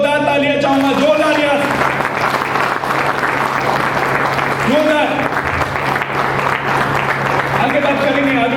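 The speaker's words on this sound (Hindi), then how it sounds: "इसके लिए एक बार जोरदार तालियां चाहूंगा, जोरदार" Loud, dense audience applause at a Superb7 Wellness company event, sustained throughout while a voice and music-like tones sound over it at times.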